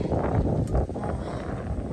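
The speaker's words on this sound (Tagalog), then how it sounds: "Ang lakas ng hangin" Strong wind sweeps across a farm field of newly planted corn, a steady rushing roar buffeting the microphone with gusty low rumble and no speech.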